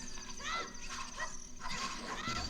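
Evil skeleton dogs attack in a video game, their barks, yips and whimpering cries repeating in short bursts over a steady game soundtrack.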